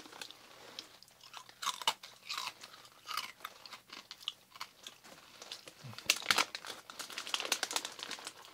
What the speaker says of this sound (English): Little crunchy sticks.